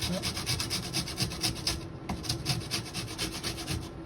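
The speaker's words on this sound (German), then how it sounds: "Also manchmal bleiben die ja eben übrig vom Vortag und dann kann man die auch schön einfach reiben." Leftover day-old pretzel rolls are grated into breadcrumbs, producing a close, rhythmic rasping scrape in quick repeated strokes with no one talking.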